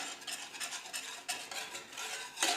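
A spoon stirs a cornstarch cream mixture in a saucepan, scraping rhythmically against the inside, with repeated soft swishes and light metallic scrapes, close and fairly quiet.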